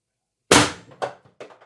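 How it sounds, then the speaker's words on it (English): A single shot from a Pistelle X-68 air gun in a Punisher build with a drum magazine, a sharp loud close crack after silence, followed by a couple of quieter thuds and rattles. "Here we go with shot 1."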